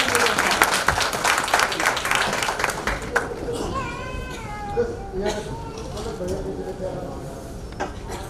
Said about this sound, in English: Can I have a big round of applause for this beautiful presentation?